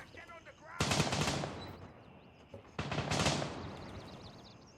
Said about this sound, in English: Where'd those other shots come from?